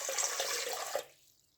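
About 500 ml of lukewarm water is poured for a rye bread dough, a close, bright splashing stream that runs for about a second and then stops abruptly, leaving near silence.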